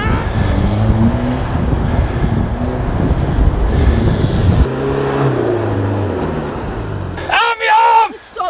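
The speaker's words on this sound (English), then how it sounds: "they need to wait for the second vehicle to make its way around the track" Custom-built 4x4 driving around a motocross track, a continuous loud engine roar with shifting revs for most of the clip, then cutting out as voices rise near the end.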